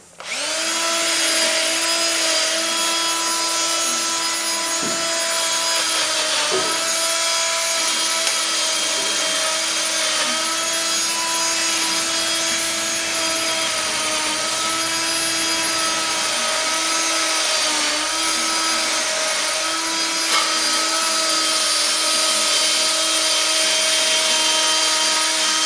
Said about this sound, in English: I went and grabbed the drill